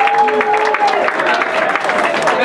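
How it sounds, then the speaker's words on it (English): Audience at a Franklin Township Democrats meeting for a New Jersey governor candidate, clapping in a steady indoor round of applause with a voice carrying over it. "Just want to give a round of applause"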